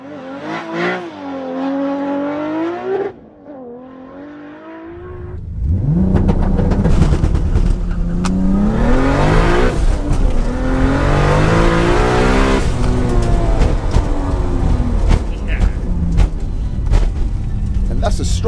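A Toyota Supra launches hard in a drag race run, its engine note rising steadily and loudly through the gears after a short quieter stretch, with a voice speaking briefly before the launch.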